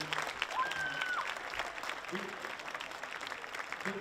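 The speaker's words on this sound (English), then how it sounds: "I'd like to give the coaches in here a round of applause" A round of applause for school coaches at a signing day event, a steady wash of clapping from a seated crowd at a moderate distance, with scattered voices mixed in.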